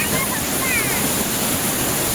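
A waterfall at Machi roars as a constant dense rush of water nearby, with a faint voice briefly present under the noise.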